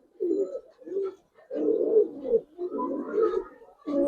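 Pigeons coo close by in a series of soft, low, throaty phrases, several coos in a row with short pauses, heard alone without talk.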